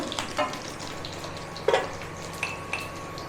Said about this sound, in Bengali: ভালোভাবে ভেজে নেব।